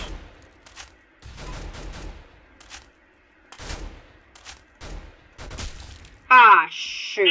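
Sniper gunshots from a video game crack out as several short, separate sharp bursts with quiet gaps between them, ending with a brief electronic game chime.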